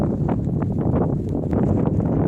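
Steady wind buffeting a microphone on an exposed mountain hiking trail near Tai Mo Shan's peak in Hong Kong, a continuous low rumble with gusty surges, close and loud throughout.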